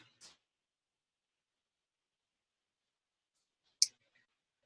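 Two faint, isolated computer mouse clicks in a quiet room, spaced a few seconds apart, the second one sharper.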